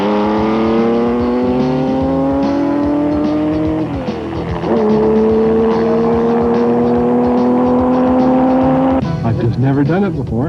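A 330-horsepower 1969 Porsche 914-6 race car drives at speed, its loud, sustained engine note holding high and shifting pitch twice as the revs drop and climb, close and continuous with voices underneath.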